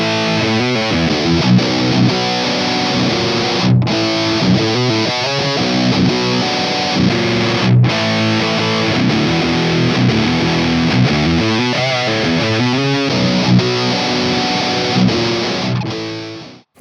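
Heavy metal riffs on an electric guitar are played first through a tube amp and then through a Boss Metal Zone transistor distortion pedal. The dense, loud, saturated chugging has brief gaps between passages and fades out at the end.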